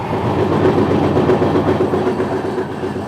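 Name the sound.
Vande Bharat Express train passing by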